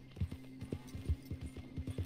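Horse galloping in Red Dead Redemption 2, a steady, fast run of hoofbeats thudding close under a faint constant hum.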